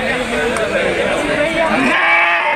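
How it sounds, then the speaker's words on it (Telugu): Large Rayalaseema rams from Nandyal, gathered for sale, bleat in drawn-out calls under steady nearby chatter from people. "ఇవన్నీ పెద్ద సైజు పొట్టేలు"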